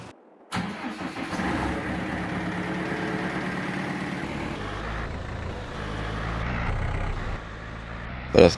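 A Massey Ferguson tractor engine in Farming Simulator 22 cranks and starts abruptly, then settles into a steady mid-pitched idle that holds for several seconds, loud and near, with no speech.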